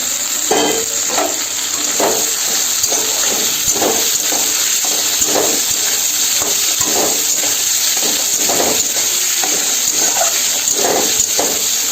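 Chopped tomatoes hitting softened onions frying in a pan for tomato pulao, loud continuous sizzle with rhythmic stirring scrapes repeating every second or so.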